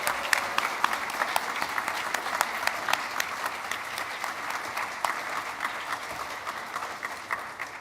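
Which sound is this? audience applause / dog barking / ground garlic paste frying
audience applause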